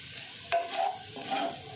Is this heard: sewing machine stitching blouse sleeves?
no